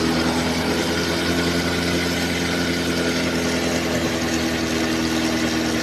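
A Honda Beat 2022 scooter engine is held at a constant rev for about ten seconds, a steady, continuous mechanical drone with no talking.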